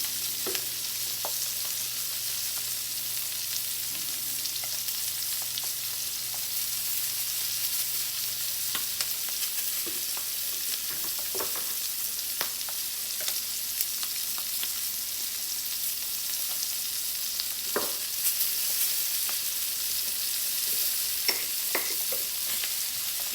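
Steak quesadilla sizzles steadily in a hot pan, close and continuous. Occasional light taps and scrapes of a utensil come through, with no talking.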